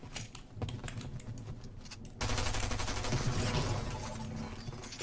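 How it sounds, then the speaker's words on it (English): Pistol gunfire in a video game, a fast crackling run of shots that starts sparse and then becomes a dense, continuous rattle, moderately loud and without speech. "With a pistol."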